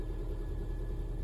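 Swapped-in Subaru EJ20 engine idling, a low steady rumble with an even, faint throb, heard alone and quite quiet.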